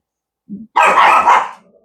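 A dog gives one short low woof and then a loud, close, harsh bark that trails off, heard alone in a quiet room.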